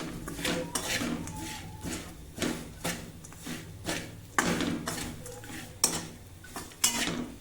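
Peanut chutney being stirred in a pan over a low flame, a spoon scraping and knocking against the metal in repeated strokes, close and fairly loud, with no talking.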